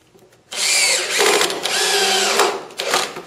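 A power drill whirs in loud, sustained bursts, driving screws up the seam of a wall flat during a studio build; the motor runs steadily with short pauses between screws and no talk.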